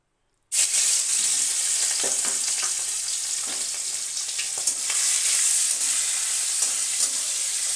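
After a short silence, prawns hit hot oil and fry lightly with a loud, steady, close hissing sizzle. A few faint stirring clicks sound under it, and the sizzle continues to the end.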